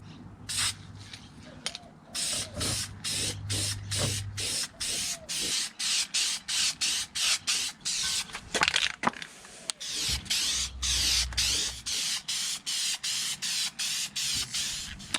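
VHT vinyl dye spray-painted onto a sanded dash part, steady hissing bursts from the can that pulse on and off rapidly, close and fairly quiet, with rattly clicking underneath.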